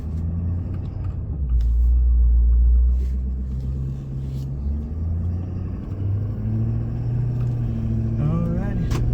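Road traffic rumbles past at a roadside pull-out, a low steady engine drone swelling loud around two seconds and lingering close throughout, with brief higher engine whines near the end and voices faintly underneath.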